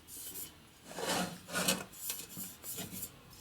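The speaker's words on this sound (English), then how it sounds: "So I'll go ahead and give these a quick flash on, deglaze them." A hone scrapes over motorcycle engine parts on a 1977 1000cc Sportster Ironhead being deglazed, a series of short rasping rubbing strokes in uneven rhythm, close but fairly quiet.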